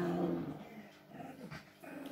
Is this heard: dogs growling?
yes